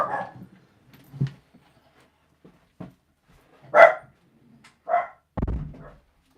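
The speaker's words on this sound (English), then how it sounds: "They're going to keep barking." Dogs bark from behind a door in a few separate, muffled bursts spread across quiet stretches, some sharper and nearer than others.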